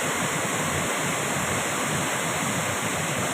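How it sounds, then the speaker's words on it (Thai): Tat Ton waterfall in Chaiyaphum province roars with a dense, steady rush of falling water, loud and close, continuous with no voices. "อันนี้คือธรรมชาติล้วนๆครับเพื่อน ๆสวยงาม น้ำตกตาโตน จังหวัดชัยภูมิครับเพื่อน"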